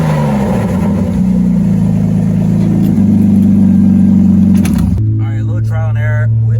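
BMW engine running steadily with its mass airflow sensor unplugged, a loud, continuous low drone that shifts pitch slightly and then settles to a lower hum as a voice talks over it.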